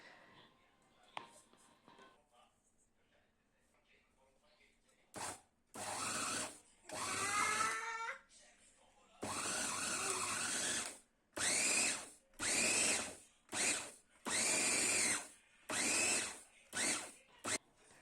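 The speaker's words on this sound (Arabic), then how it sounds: "غادي ناخذ كمية ديال الكنافة وغادي نطحنها في الهاشوار" An electric food chopper grinds kunafa pastry in a series of loud, close pulses, about eight bursts of whirring motor noise separated by short pauses, after a quiet start with faint handling sounds.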